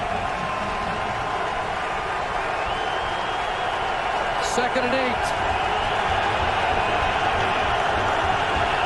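Steady crowd roar filling a CFL football stadium as the Toronto Argonauts visit the Winnipeg Blue Bombers on a big second down, continuous and loud throughout, with a commentator talking over it.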